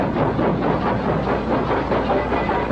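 A steam train rattles over the rails, with a steady, dense rumble and a continuous clatter of wheels that holds at a loud, even level throughout.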